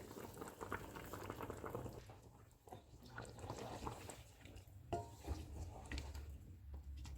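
Aloo chicken shorba, a chicken and potato curry, simmering in a covered pot, a faint, steady low bubbling and burbling with soft irregular pops, quiet throughout and with no voices.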